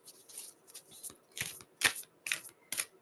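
Tarot cards are shuffled close up in a series of quick papery riffles and soft slaps, irregular bursts separated by short gaps, fairly quiet.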